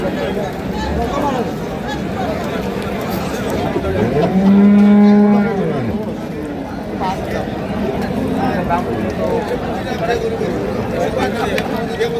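A single loud, drawn-out moo from a bull rings out amid the crowd chatter of a busy cattle market where livestock are traded, with people talking throughout.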